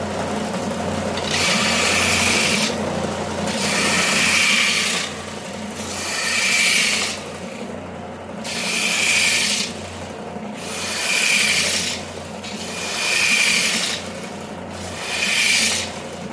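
Wooden corners of a napkin holder being rounded over by hand, heard as seven steady rasping strokes of roughly a second and a half each, evenly spaced with short pauses, close and fairly loud over a faint background hum.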